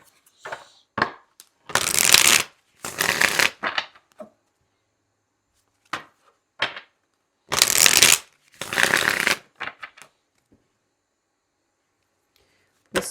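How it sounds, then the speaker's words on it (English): A tarot card deck being shuffled close up in several bursts of riffling and flicking, separated by quiet pauses. "Let's pull some more cards."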